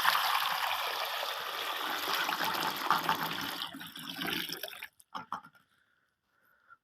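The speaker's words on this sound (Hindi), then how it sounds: "ये लो पानी आ गया जी।" Water pours steadily and fairly close for about four seconds as pigeons are given a drink, then breaks off into a few short splashes and near silence.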